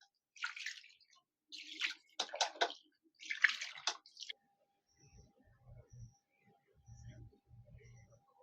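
Vinegar-curdled chhana being rinsed under water in a kitchen, a light intermittent splashing and trickle after a stretch of talk, fairly soft and close.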